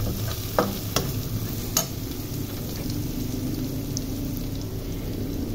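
Garlic frying in a pan for a fish and guar curry, a steady soft sizzle with a few light clicks of utensils, fairly faint and with no talking.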